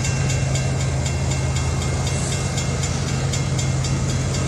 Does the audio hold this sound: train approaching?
yes